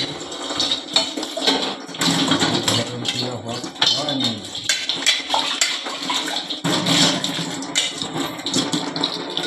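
Spiced water poured into a home cooking pot of chicken biryani, a splashing, gurgling pour with light metallic clinks of the pot, fairly close, with a voice faintly in the background.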